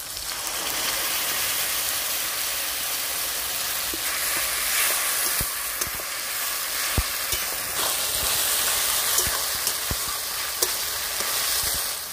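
Ground spice paste fries in a pan for katla fish kaliya, giving a dense, loud, continuous sizzle like heavy rain. Scattered sharp ticks and pops of a spoon stirring run through it.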